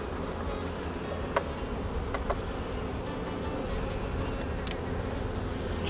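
Dense, steady buzzing of many honeybees swarming around an opened hive during a hive split, a continuous close drone with occasional individual bees zipping past the microphone.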